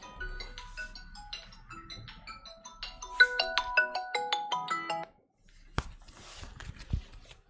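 A phone ringtone plays a bright, stepped electronic melody of repeated notes for about five seconds, then cuts off, followed by a few faint clicks and handling noises.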